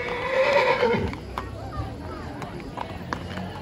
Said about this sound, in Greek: σε δύο καθαρόαιμα άλογα.